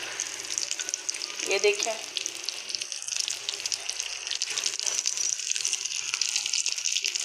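Cabbage tikki (patta gobhi patties) frying in hot oil makes a steady, close hissing sizzle that runs throughout, with a voice speaking briefly near the start.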